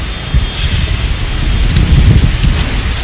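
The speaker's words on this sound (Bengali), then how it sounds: "আর প্রচুর বাতাস হচ্ছে এদিকেও" Strong, gusty wind ahead of a rainstorm under dark clouds in Bangladesh roars loudly and continuously into the microphone, a dense low rumble with no voices.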